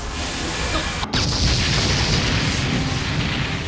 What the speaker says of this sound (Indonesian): Suara ledakan itu sampai terdengar